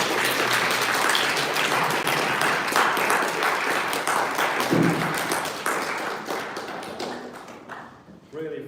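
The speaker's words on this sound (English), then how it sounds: "I'd say a random applause is in order." An audience at a talk about an animator's career claps in a sustained round of applause with some taps and thumps, fading out near the end as a voice begins.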